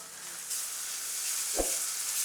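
Onion and tomato masala with salt sautéing in a pan for moong dal amti, a steady soft sizzle throughout with one brief louder stir or clink midway, no talking.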